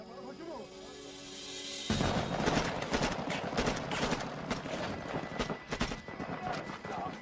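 Heavy gunfire from an Iraqi patrol erupts after a quieter opening, with dense bursts and sharp cracks continuing loudly throughout, mixed with other battle noise.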